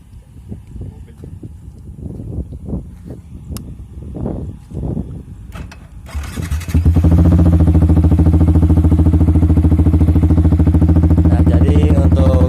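Motorcycle fitted with a WRX GP K1 aftermarket exhaust, first a few uneven blips, then the engine settles into a loud, steady, close-up idle with a throbbing low drone.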